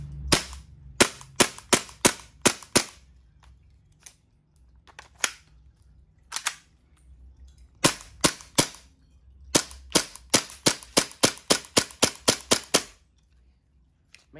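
A Tokyo Marui Glock 17 gas blowback airsoft pistol fires in sharp, loud, close cracks, some single and some in quick strings of five to ten shots, with a low hum between volleys.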